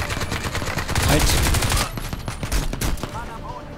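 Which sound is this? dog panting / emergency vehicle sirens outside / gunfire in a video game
gunfire in a video game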